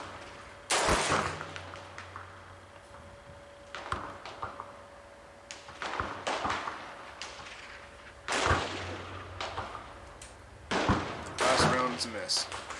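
M1A rifle shots fired at a 500-yard target ring out as several sharp, loud reports spaced a few seconds apart, each followed by a brief echoing tail, with someone talking between them.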